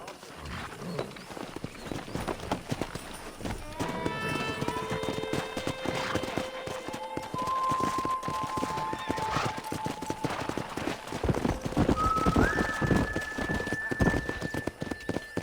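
Hooves clatter in a fast galloping rhythm alongside horse whinnies in the video game Red Dead Redemption, with tonal music and occasional sharp bangs mixed in.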